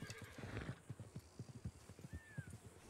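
A video game horse's hooves clip-clop in a quick, even rhythm, faint and steady, with one brief high neigh partway through.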